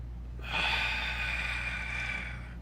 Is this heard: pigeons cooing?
no